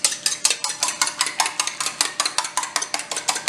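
An egg being lightly beaten in a bowl with a utensil: quick, even clicking taps at roughly four to five per second, close and crisp, with no voices.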